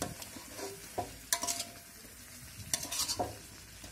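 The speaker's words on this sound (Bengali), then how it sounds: "দেখেন আমাদের মাংস ভুনা প্রায় শেষের দিকে, তেল কিন্তু ছেড়ে দিয়েছে।" A spoon stirs chicken curry meat frying bhuna-style in released oil, giving a steady sizzle with intermittent scraping clinks against the pot.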